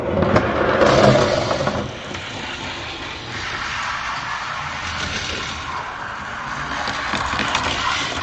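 Cars including a Camaro, a Rampage and a BMW roar off the line together in a racing video game, a blended engine drone that swells at the start and then holds steady at a moderate level, with no voices.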